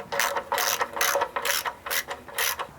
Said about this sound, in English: Now you just want to finish tightening it up.